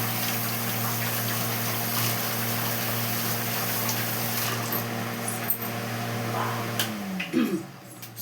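Kitchen utensils washed under a running tap, a steady hum of flowing water with faint clinks, ending in a short splashing clatter near the close.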